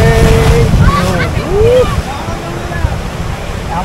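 A boat carrying six people rides out on the sea at Digha beach. Loud rushing water and wind churn continuously beneath excited voices talking and calling out.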